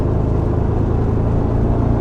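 A deep, steady V8 rumble from an LS engine swapped into an Aston Martin, loud and close, with a constant low throb and no talk over it.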